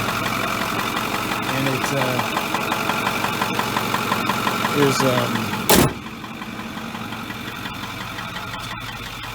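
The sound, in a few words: Ford F550 6.4 Powerstroke diesel engine idling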